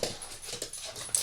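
A dog pants softly and gives faint whimpers indoors at home near a baby gate, a quiet, close, continuous breathy sound with small rises in loudness.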